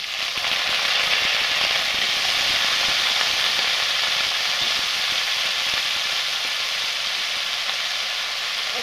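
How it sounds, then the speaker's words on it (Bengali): Potatoes going into a pan of well-browned fried onions for a poppy-seed potato and pumpkin dish, giving a loud, continuous broadband sizzle that holds steady and close throughout, with no voices. "আমি এখন এখানে আলুটা দিয়ে দেবো"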